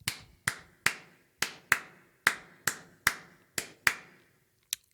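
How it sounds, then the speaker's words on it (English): A snare drum is struck in a clave rhythm, about ten crisp, dry hits with a bright ring, sharp attacks and short decays, evenly loud and close, with no talking. "A clave sounds like this"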